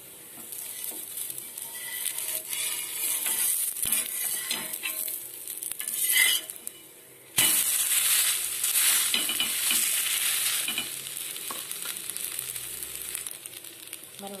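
Sliced okra stir-fries with pepper in a hot pan, a continuous crackling sizzle broken by repeated scraping and clattering stirs, with a brief louder burst midway.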